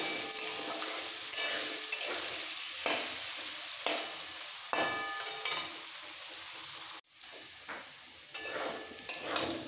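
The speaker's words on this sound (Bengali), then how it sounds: "গ্যাসটা কমিয়ে আলুটাকে ভেজে নিতে হবে আগে।" Potatoes sizzle steadily in a hot pan over a low gas flame while a utensil scrapes and stirs them in repeated strokes, close and fairly loud, with no voices.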